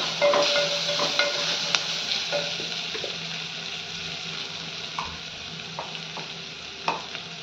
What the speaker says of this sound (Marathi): कांदा थोडा परतत आला की त्यात 2 हिरव्या मिरच्या अशा मधून कट करून घेतल्यात त्या घालून घेऊयात